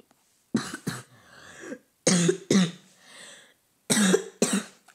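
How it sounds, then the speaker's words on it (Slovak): Three pairs of harsh, close coughs, each double burst separated by a quiet pause with some throat noise in between. "Furt len kašlem, nemôžem ani poriadne rozprávať."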